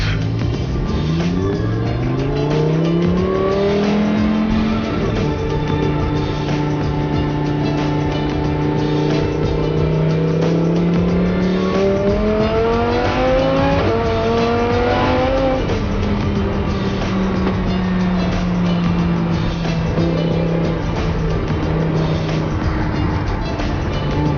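A loud car engine revs continuously, its pitch climbing through repeated rising sweeps as it accelerates hard, with no voices.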